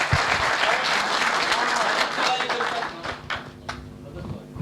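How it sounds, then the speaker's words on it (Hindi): An audience at a poetry recital applauds with lively, continuous clapping that thins out in the second half, with voices under the tail end. "एक बार तालियां बजाइए पूरा सब।"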